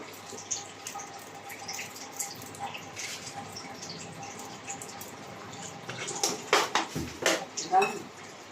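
Water poured into sattu puri dough in a kitchen bowl, a few soft splashing drips and trickles growing louder toward the end over faint background noise.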